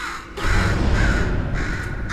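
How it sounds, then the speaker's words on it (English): Crow caws from a bird in the video game Portal 2, a steady, fairly loud harsh cawing that runs almost continuously with brief dips, no voices over it. "Could you, murder this bird for me?"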